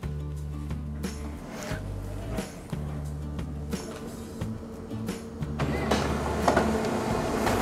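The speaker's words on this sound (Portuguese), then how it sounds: "Ah lá, já está saindo o documento." Inkjet printer model 3710 printing a document, with mechanical whirring in repeated stop-start bursts, clicks as the carriage moves, then a louder rising feed sound as the paper comes out, close by.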